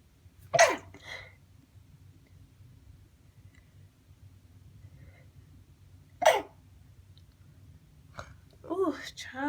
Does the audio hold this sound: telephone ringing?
no